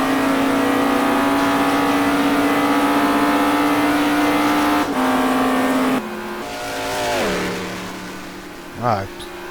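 An Audi GT2 race car at Daytona holds a loud, steady high engine drone, then shifts down and changes pitch as it lifts and accelerates again, with a commentator talking over it.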